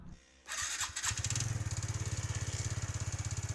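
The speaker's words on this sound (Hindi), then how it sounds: "तो चलिए थोड़ा सा स्टार्ट करके भी आप लोग को दिखा देते हैं इस गाड़ी में क्या हो रहा है।" A TVS Ntorq BS6 scooter with a starting problem cranks briefly and catches, then settles into a fast, raised idle with a steady pulsing rhythm, close up and loud.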